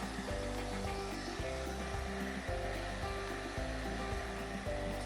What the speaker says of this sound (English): So I'm just gonna hit this with the heat gun a little bit